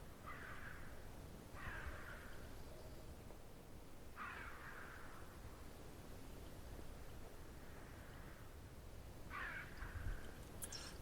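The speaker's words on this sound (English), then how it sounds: "Sounds like some crows." Crows caw in a snowy wilderness hunting game, a few harsh calls spaced across the stretch at moderate distance over a steady wind-like hiss.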